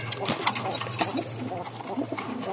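Pet pigeons coo in soft, repeated throaty calls close by, over a constant low hum and some background bustle.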